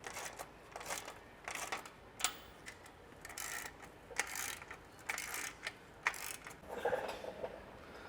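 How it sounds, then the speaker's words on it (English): Ratchet wrench snugging down an exhaust clamp while fitting an aFe Vulcan exhaust on a third-generation Toyota Tundra: steady rhythmic clicking strokes, fairly faint and close, with soft metallic ticks and no talk. "We can snug this down."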